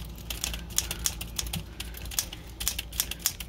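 Type bars of a vintage Smith Corona typewriter striking in quick, uneven taps, some clustered and some spaced, close and fairly crisp over a low background hum.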